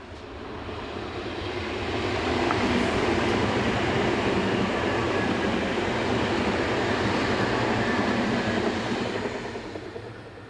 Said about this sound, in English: 411019 heads away from the former border station on a train for München.